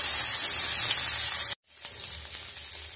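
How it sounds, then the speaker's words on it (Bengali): Chopped ginger hits hot oil with browned fried onions in a pan, giving a loud, steady hissing sizzle that cuts out abruptly partway, then resumes as a quieter crackling fry. "আমি দিয়ে দিচ্ছি আদা কুচি।"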